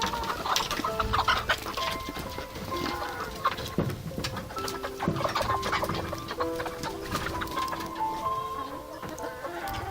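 A large flock of rescued egg-farm hens clucks and murmurs continuously, many birds at once, a dense busy chatter at moderate distance with no talking.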